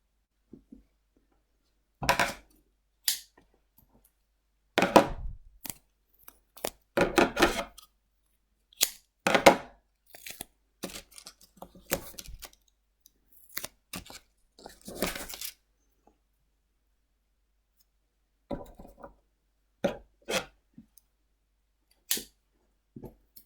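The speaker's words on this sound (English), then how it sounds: "I've just unpeeled the double-sided tape" Double-sided tape peeled and craft pieces pressed on by hand, heard as sharp, scattered tearing and tapping bursts separated by quiet gaps, with no talking.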